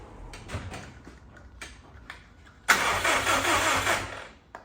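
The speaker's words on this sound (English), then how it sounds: "I've got the starter motor off to free it off, so hopefully now it tries starting." A rare Subaru Prodrive WRX under restoration cranks on its starter motor: a few faint mechanical clicks, then a sudden loud whirring crank lasting about two seconds before cutting off.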